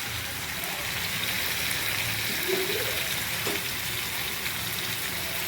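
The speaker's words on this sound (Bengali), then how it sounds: "এবার জল দিয়ে দেবো সেদ্ধ করার জন্য" Water is poured into a pan of fried masala chicken for boiling, making a steady, close hissing splash that runs evenly throughout with no talk.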